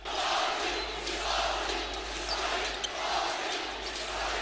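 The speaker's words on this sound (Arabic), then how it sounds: "تجمع مئات الغاضبين من الهجوم الإسرائيلي على قطاع غزة وهتفوا بصوت واحد" Hundreds of angry fans chanting in unison at a Turkish basketball match in Ankara against an Israeli team, a loud roaring crowd with voices merging into a continuous dense din.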